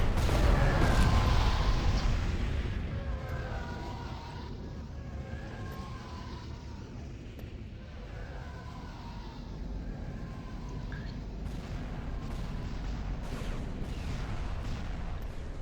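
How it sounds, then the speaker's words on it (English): A heavy rocket launcher fires on a shield generator in a space battle in a strategy video game, heard as a dense, rumbling barrage of deep booms and explosions, loudest at the start and continuing steadily. "Okay, heavy rocket launcher."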